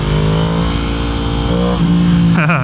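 A Yamaha MT-10 motorcycle engine revs hard under acceleration, a loud, close, steady droning roar that climbs sharply in pitch near the end, with no talking.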